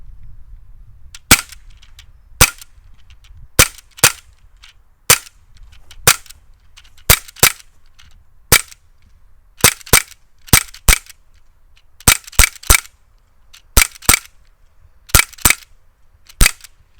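A SIG X-Five CO2 repeating pistol firing .177 pellets with blowback, sharp close cracking shots, about two dozen in quick pairs and short bursts over steady background, with no talk.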